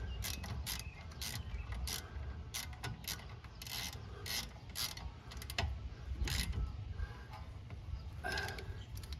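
A ratchet tightens the 14mm rear brake caliper bolts on a 2019 Chevy Traverse with electronically assisted parking brake, making repeated close, crisp clicking bursts in short runs with brief pauses, and no talking.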